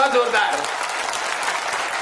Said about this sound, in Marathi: त्यांच्यासाठी दोघांसाठी एकदा टाळ्या वाजवा जोरदार